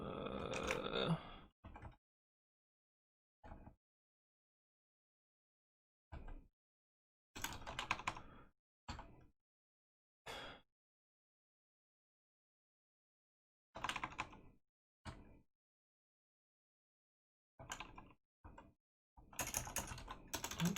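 Computer keyboard typing in short scattered bursts of quick clicks separated by silent pauses, close and fairly quiet.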